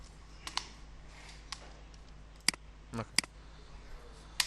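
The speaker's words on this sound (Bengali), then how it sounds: "দেন হচ্ছে আপনি ইন্টার বাটন প্রেস করেন" A handful of separate computer key presses and clicks, including the Enter key, made during graphic design work: crisp, close taps spaced irregularly over a quiet room hum.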